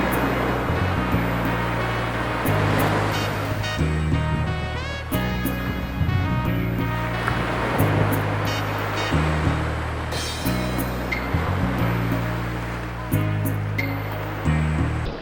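Ocean waves break and wash continuously on a Boston beach, a loud steady roar of surf, with a low engine-like hum and faint tonal sounds layered beneath and no voices.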